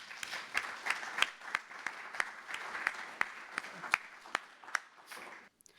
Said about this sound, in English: So let's give him another clap.